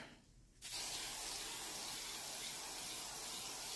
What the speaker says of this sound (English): And we're going to spray our activator